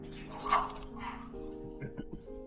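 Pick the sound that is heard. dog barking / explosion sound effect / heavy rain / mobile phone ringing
dog barking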